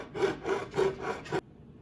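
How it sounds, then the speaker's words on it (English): A hacksaw cuts through the bolster of an Aristocraft freight car in four steady back-and-forth strokes, close and moderately loud, then stops abruptly. "we're going to take our hacksaw and we're going to cut right behind the bolster, right directly against it, and start sawing"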